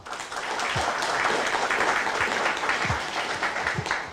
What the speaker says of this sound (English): let's give Nic another round of applause